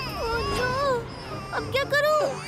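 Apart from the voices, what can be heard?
baby crying sound from a soft toy in cartoon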